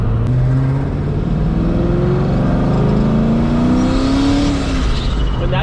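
A Ford Mustang engine roars loud and close, climbing steadily in pitch as it accelerates hard, with a continuous rising growl throughout.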